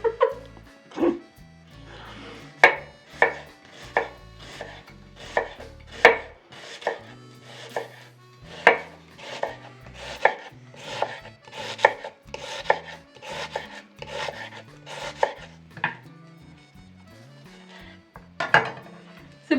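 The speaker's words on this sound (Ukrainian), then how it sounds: "Нарізаємо цибулю. Півкільцями." An onion sliced into half-rings with a knife on a board for pickled cabbage with peppers: steady, close, crisp chops of the blade striking wood, about twenty cuts in a brisk but slightly uneven rhythm, with faint room sounds between strokes.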